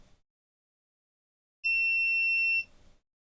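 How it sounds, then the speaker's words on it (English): A single steady electronic beep from a multimeter continuity test on a Nintendo Switch capacitor, lasting about a second, clear and close, with silence before and after. "So if we go on one side of this cap, we get a beep"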